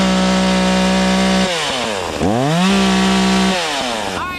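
A chainsaw revs loud and close as it cuts through hemlock, its steady high whine dipping and rising as the chain bites into the wood.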